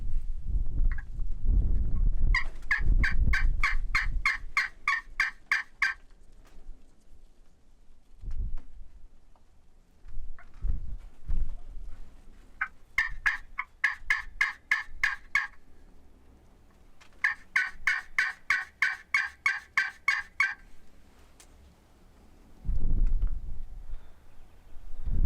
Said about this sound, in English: now there's a bird gobbling right down in the cedars here to my right